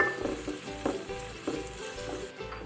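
Onions sauté in butter in a pot for a lasagna white sauce, giving a close, even sizzle with soft stirring scrapes at regular intervals. No voices are heard.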